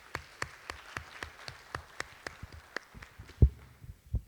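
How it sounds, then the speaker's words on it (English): Sparse, fairly faint clapping from a conference paper-session audience, with evenly spaced claps at a steady rhythm, ending in a couple of louder, closer thumps. "Please give another round of applause for all the presenters and all authors of all papers."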